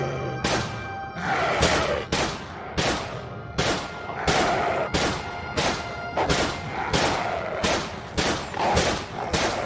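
Soldiers fire their guns in a ragged, rapid volley, about a dozen loud, sharp shots at fairly regular intervals, each leaving a short ringing tail.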